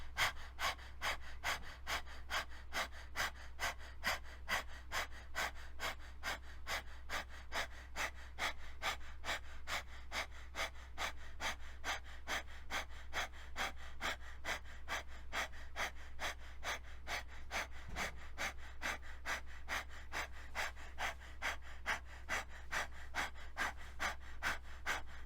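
Rapid, rhythmic forced breathing from a breath of fire exercise, short sharp exhales repeating steadily many times per second-pair, close and fairly quiet, with no talking.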